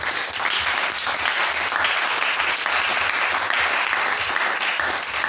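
A church congregation applauds the Lord with loud, sustained clapping and crowd noise that stays even and dense throughout.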